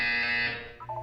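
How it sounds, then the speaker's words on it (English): A harsh electronic buzzer sounds during a mandatory wellness exercise in Portal 2, loud and steady for about half a second before fading into softer tones. "When you hear the buzzer, look down at the floor."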